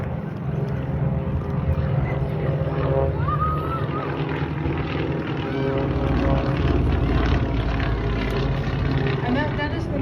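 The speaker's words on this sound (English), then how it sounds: "And that is the Nanchang, again, a basic trainer." A Nanchang basic trainer propeller plane flies at an air show, its engine a loud, steady droning roar with a wavering tone throughout, mixed with crowd ambience.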